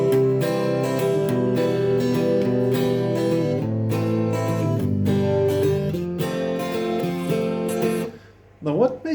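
Acoustic guitar strumming a song with basic beginner chords, clear steady chord changes played close and alone, ending abruptly with a short final pluck.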